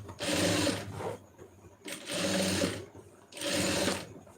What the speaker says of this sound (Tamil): ஒரு படிமான தையல் வந்து லைனிங் மேலே போட்டுருங்க